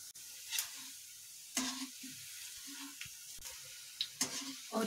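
Poha vada balls sizzle steadily as they fry in hot oil, with a few sharper clinks and scrapes as they are stirred in the pan.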